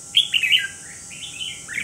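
A caged red-whiskered bulbul sings close by, a few bright whistled phrases followed by a softer warbling run over a quiet background.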